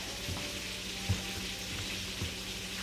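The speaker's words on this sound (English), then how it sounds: "the fish is taking its duty, getting all fried up." Fish frying in oil in a pan, a steady hiss of sizzling with faint occasional pops and clinks, fairly quiet and heard alone.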